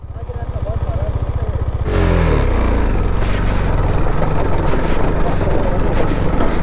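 A KTM Duke 390 motorcycle rides a rough off-road track, its engine loud and close with a steady pulsing hum that rises into a harsher roar of revving as the bike climbs.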